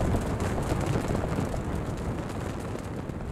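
Explosions in the battle game Totally Accurate Battle Simulator, a continuous loud rumbling blast wash with dense low booming that stays heavy throughout, no voices.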